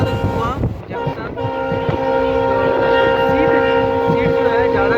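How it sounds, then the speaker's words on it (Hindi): The Janshatabdi Express, running from Kathgodam to Dehradun, sounds a loud, sustained horn over the rumble of the moving train. "बहुत हॉर्न दे रही है गाड़ी"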